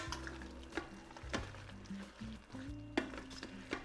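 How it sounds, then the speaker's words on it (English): A spoon stirs Marry Me Chicken in creamy sauce in an opened pressure cooker, faint soft scraping and wet sloshing with occasional clinks against the pot, no one speaking. "now give it a nice stir"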